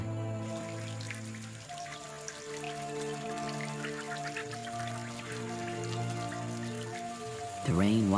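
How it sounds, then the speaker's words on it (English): Rain falls over the Caribbean, a steady patter of drops heard beneath a sustained orchestral music score. "The rain washes mud from land to sea."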